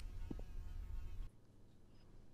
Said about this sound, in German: Dieses Brummen von der Fliege, es macht mich wahnsinnig.